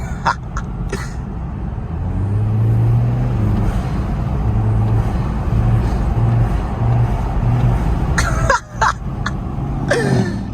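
A tuned turbocharged Alfa Romeo Giulia drives a backroad, its engine droning close and steady under interior noise, with a few sharp bursts and hisses suggesting blow-off valve releases near the start and again around the eighth second.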